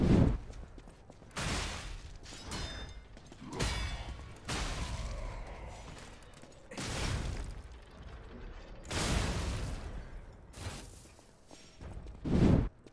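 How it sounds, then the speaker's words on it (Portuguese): Repeated heavy blasts and mechanical clanks as a cannon is destroyed in combat in the video game Lies of P, several loud bursts in sequence with whooshing debris between them. "Vamos destruir o canhão."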